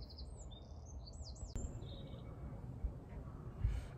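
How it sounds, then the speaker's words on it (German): Birds sing in the early morning outdoors, with a cluster of faint, high chirps and trills near the start and a few fainter calls later over a low, steady background rumble. "Die ganzen Vogelgeräusche am frühen Morgen."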